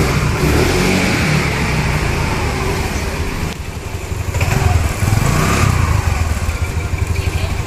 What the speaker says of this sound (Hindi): अब जैसे ही हमने स्टार्ट करी, अभी थोड़ी ना इंजन में आवाज़ आएगी